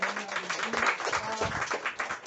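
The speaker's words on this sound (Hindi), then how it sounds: "पहले तो दिनेश जी के लिए जोरदार ताली होना चाहिए" An audience at a herbal store gathering claps for a guest, a brief, muffled patter of applause mixed with faint voices.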